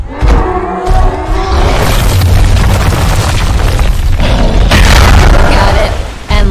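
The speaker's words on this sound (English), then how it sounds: "That other pack of striders, let's try your rock throw." A monster's rock throw attack in the video game Evolve Stage 2, a loud heavy rumbling boom and crashing impact that sustains for several seconds, with a brief gap before a second surge.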